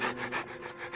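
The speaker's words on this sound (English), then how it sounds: "I hope that was just panting." A dog panting heavily in a movie scene, quick rhythmic breaths close and loud over a short stretch.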